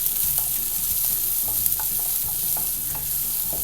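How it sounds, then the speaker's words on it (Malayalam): Chopped onion and green chillies fry in a pan while being stirred, a dense, even sizzle with light utensil scrapes, close and fairly loud throughout. "പച്ചമുളക് ഇതെല്ലാം കൂടി ഇട്ട് നന്നായിട്ട് ചെറുതായിട്ടൊന്ന് ഇളക്കി കൊടുക്കണം."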